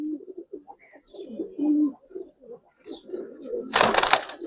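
A Giribaz pigeon at a busy pigeon market gives soft, low cooing calls in short bursts, with faint chirps from other birds and a brief rush of flapping wings or rustling near the end.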